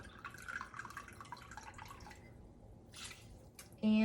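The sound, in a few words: pouring rice vinegar into a measuring cup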